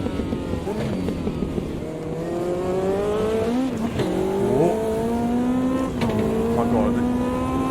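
A race car engine in the video game Automobilista 2, a high-power turbo car, revs and climbs through gears with rising and falling pitch during wheel spin, steady and close, with someone talking over it.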